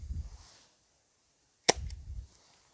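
A single sharp CO2-powered dart blaster shot cracks out close and loud after a quiet pause, with a brief clatter trailing it.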